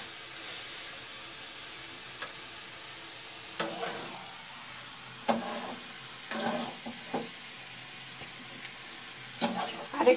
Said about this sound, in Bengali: ডিমগুলো ভালোভাবে আর একটু ভাজতে হবে।